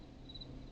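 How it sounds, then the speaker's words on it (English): Cricket chirping as a sound effect in the Killer Frequency video game: a faint, high, steady insect trill sits low in the mix over a soft background hiss, alone without talk. "I've only got crickets."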